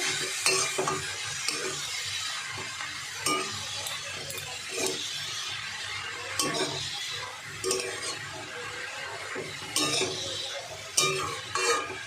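Vegetables stirred with dried chili powder in a pan on the stove give a steady sizzle, with repeated scraping and clinking of a spatula against the metal pan, close and fairly loud, and no talking.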